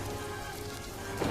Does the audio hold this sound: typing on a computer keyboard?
no